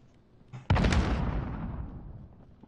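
A single heavy grenade blast in Call of Duty Warzone erupts with a sharp onset, preceded by a faint pop, then a long rumbling decay that fades over about two seconds, loud and close.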